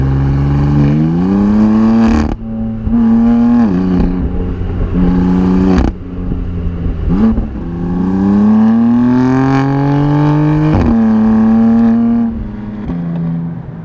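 A car engine revs hard past 4,000 rpm and screams with a strong, tuneful tone, rising and falling in repeated loud pulls with brief lifts between them, close and with no talking.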